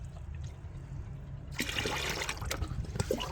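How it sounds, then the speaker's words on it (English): Water pours and splashes into a bucket as tomato paste fertilizer is mixed in, a quiet start giving way to a sudden rushing, gurgling flow, close by. "Add this liter to 10 liters of clear water in a bucket. Mix it all together"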